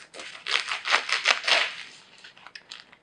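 A knife or blade cuts through the plastic wrap on a salami with a quick series of close crinkling, crackling rips that fade into faint rustling.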